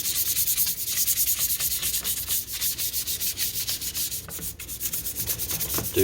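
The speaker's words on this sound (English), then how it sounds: "just use a little bit of dish detergent to help scrub it off." Rhythmic scrubbing of Whirlpool refrigerator plastic trim with dish detergent, close and steady with repeated back-and-forth rubbing strokes for several seconds, no talking.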